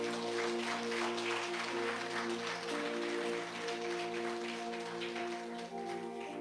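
A congregation at a Catholic worship service applauds over sustained keyboard or organ chords, the clapping a broad, steady wash layered above the held notes.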